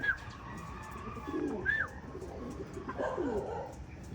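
Pigeons coo softly in low, throaty bursts at a pigeon loft, with a few sharper chirps mixed in, fairly quiet against a steady background hum.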